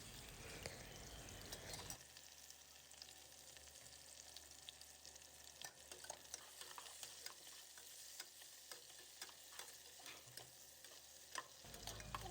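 Chopped onions sizzle steadily in a hot pan as they fry, with occasional stirring clicks over a constant broadband hiss; the sizzle jumps in at about two seconds and carries on to near the end, with no talking.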